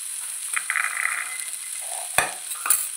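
Chopped potatoes with red chili powder and fresh peas stirred in a hot pan, a steady close sizzle with a soft scrape and two sharper spoon knocks near the end.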